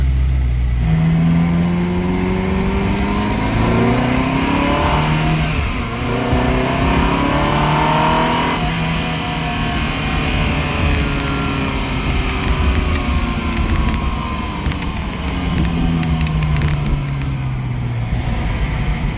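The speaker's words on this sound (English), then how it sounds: "I'm actually gonna take the car for a little drive" A salvaged Ferrari is driven on the road, its engine revving up and shifting through rising and falling tones over a constant loud road and motor drone, close and without talk.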